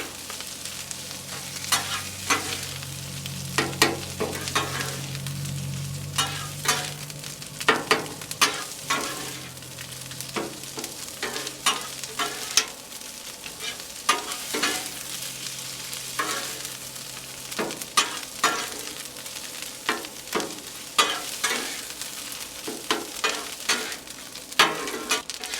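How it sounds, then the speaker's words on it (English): Chorizo mixture fries on a Blackstone griddle while a spatula works through it, a continuous sizzle broken by frequent sharp scraping strokes that come in irregular bursts for about half a minute, loud and close with no talking. "And you want to mix it all in there."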